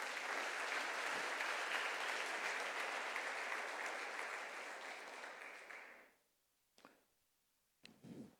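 Church congregation applauding the Lord during a Spanish-language sermon: a loud, full wash of many hands clapping for about six seconds, then fading out, followed by a few faint scattered sounds.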